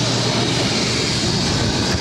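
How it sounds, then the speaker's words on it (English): A Bombardier Global 6000 business jet takes off at Boston Logan, a sustained broadband roar that stays loud and even over a brief stretch. "This is a Bombardier Global 6000 taking off."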